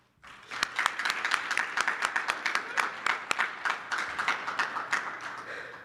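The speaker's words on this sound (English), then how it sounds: "let's give them another round of applause" Sustained applause from a crowd at an awards ceremony, dense clapping that starts abruptly and holds steady at moderate loudness throughout, with no talk over it.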